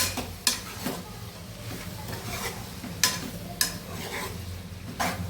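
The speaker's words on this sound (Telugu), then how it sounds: "అల్లం వేసి చికెన్ ఇలా కలుపుకున్నాం." Chicken pieces with ginger are stirred in a pan over a soft sizzle, with intermittent sharp scrapes and clinks of a utensil against the metal, fairly quiet and close with no talking.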